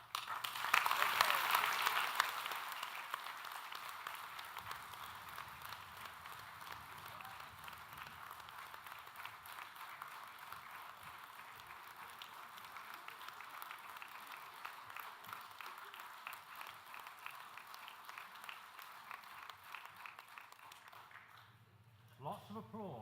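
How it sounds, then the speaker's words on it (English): Applause from the audience at a university graduation ceremony, sustained clapping that swells loudly at the start and then continues at a steady level for a long stretch, with speech over it. "lots of applause"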